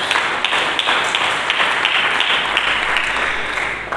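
Congregation clapping for Jesus during a Good Friday church service, a dense, steady wash of many hands that holds evenly throughout and eases slightly at the end.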